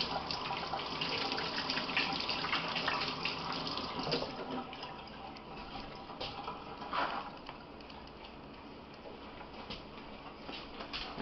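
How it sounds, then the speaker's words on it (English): Hands washed under a running kitchen tap while beef back ribs are being dry brined for a smoker cook: a steady, fairly loud splash of water with small shifts as the hands move, and no talking. "We'll actually wash my hands a little bit here."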